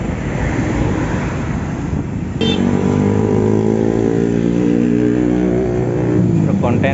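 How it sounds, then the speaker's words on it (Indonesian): Container truck on a main road, a wind-buffeted engine drone that swells as the heavy vehicle passes close, its rumble holding steady afterward, with talk underneath. "Kontainer Triton melaju ke arah Jakarta."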